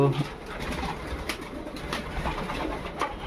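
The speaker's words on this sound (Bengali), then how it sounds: "দেখুন, যেমন এখানে একটা পায়রা আসানসোল থেকে আছে কালো পায়রাটা" Racing pigeons coo softly in a loft, one of them a black bird, with low throaty calls repeating over a steady background hiss.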